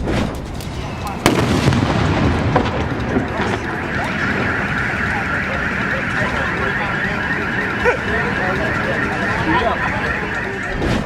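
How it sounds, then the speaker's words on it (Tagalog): A sharp firecracker bang early on, followed by crackling and fizzing bursts with a continuous noisy background and voices nearby; the firecracker is set off beside a piece of pork. "Ilan sa malalakas na paputok ang Coking Can at Goodbye Philippines na sinubukang paputukin sa karne ng baboy"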